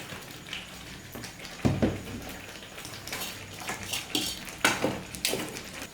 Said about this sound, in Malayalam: ഇതിന് വേണ്ടിയിട്ട് നമുക്കൊരു ചീനച്ചട്ടി ചൂടാൻ വേണ്ടിയിട്ട് വയ്ക്കാം